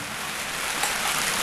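Steady rain falls on an Indonesian home kitchen while fish-and-rice liwet is cooked, a continuous broadband hiss with no voices over it.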